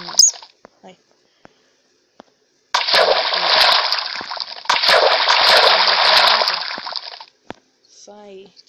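Water splashing in the mobile video game Minecraft PE, a sustained bright splashy burst lasting several seconds between short clicks and quiet gaps, with brief squeaky game sounds near the end.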